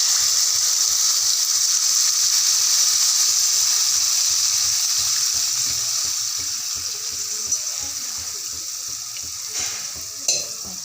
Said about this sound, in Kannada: ನಿಂಬೆಹಣ್ಣು ಗಾತ್ರ ಹುಣಸೆ ನೆನೆಸಿಟ್ಕೊಂಡಿದ್ದೀನಲ್ಲ ಅದ್ರ ರಸ ಹಾಕ್ತಾಯಿದ್ದೀನಿ.